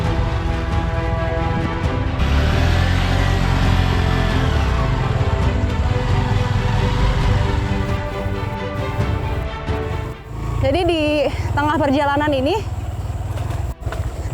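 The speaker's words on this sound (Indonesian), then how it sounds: "ban motor yang saya naiki sering terhambat di tengah-tengah lumpur yang sangat tebal seperti ini" A motorcycle struggling along an unpaved road through very thick mud in rural Kalimantan, its engine droning steadily under continuous narration and revving briefly higher near the end.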